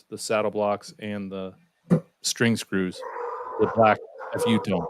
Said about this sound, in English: Oh, that's a dog, but not mine.